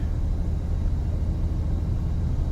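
Steady low road rumble and engine drone from a 1794 Limited Edition vehicle cruising on local roads, continuous and fairly loud with no voices.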